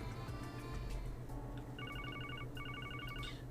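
In-game phone rings in The Legend of Heroes: Trails to Azure, two bursts of rapid electronic trilling over quiet background music.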